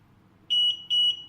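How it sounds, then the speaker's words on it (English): Two short electronic beeps from a wifi/RF433 wireless wall touch switch as it pairs with a remote, each a quick double chirp, clear and close against near silence. "When it beeps, it can successfully connect."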